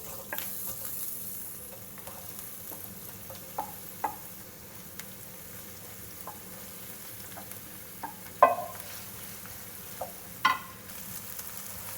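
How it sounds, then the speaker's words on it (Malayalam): Chopped onions sautéing in a hot pan, a faint low sizzle under intermittent soft pops and a few sharper spatters, quiet and close with no talk. "അണിയൻസ് ഒന്ന് സോട്ടേ ആയി വരുന്നുണ്ട്"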